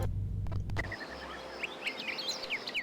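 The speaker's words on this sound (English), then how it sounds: "Really loud birds." Loud, bright bird chirps and tweets from the video game Harvest Moon: Animal Parade, a quick run of repeated calls following a brief low rumble at the start.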